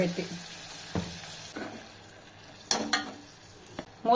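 Tomato pieces with salt cook in a pan on a home stove, with soft frying sizzle under intermittent scraping and stirring knocks of a spoon against the pan, a few sharper clatters near the end.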